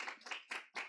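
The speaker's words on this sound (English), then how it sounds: "A big round of applause for Mr. Turner, please." Teachers at a science workshop clap for the presenter, with a few distinct close hand claps in an uneven rhythm over under a second.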